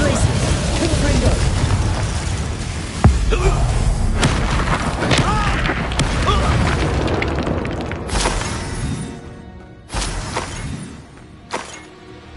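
Confringo fire-blast spell cast in the Hogwarts Legacy video game, with repeated loud booming bursts and shattering crackles over a dense, busy combat mix, plus a sharp crack near the middle and two more bursts toward the end.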